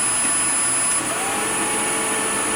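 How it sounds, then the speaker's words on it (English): A Tandem Air vacuum cleaner head runs on its own with the body motor bypassed, pulling debris through the hose. It makes a loud, steady, close whine and rush that dips slightly near the one-second mark, with no speech. "the head itself independently is generating airflow, pushing the debris through the hose."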